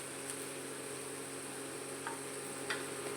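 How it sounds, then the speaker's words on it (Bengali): Chopped new raw potatoes frying in a pan with a fennel and ginger paste tempering make a steady, quiet sizzle, with a couple of faint clicks of stirring near the end. "এবার ফোড়নটা এই মৌরি আদা বাটার সাথে একটু কষিয়ে নিচ্ছি।"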